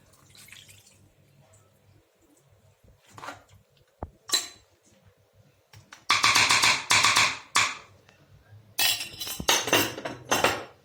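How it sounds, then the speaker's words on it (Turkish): Prepared sauce goes over the ingredients for Antep tava, a regional Turkish dish. A few soft clinks lead into two loud, splashy bursts of pouring liquid. "Şimdi malzemenin üstünü döküyorum."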